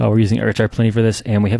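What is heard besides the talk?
No everyday noise stands out behind the speech.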